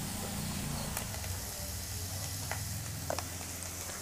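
A spiced filling with salt, cumin and turmeric being stirred in a pan for a stuffed snack, giving a soft steady sizzle with occasional faint scrapes and clicks of the spoon, quiet and close.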